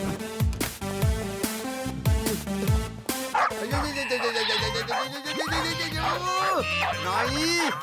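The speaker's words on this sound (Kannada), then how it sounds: "ನಾಯಿ, ನೀನ್ ಯಾಕಿಲ್ಲಿ ಬಂದೆ?" A cartoon dog yips and barks in short repeated bursts with whimpers, mixed with dramatic music and character voices.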